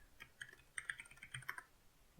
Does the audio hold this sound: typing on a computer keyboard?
yes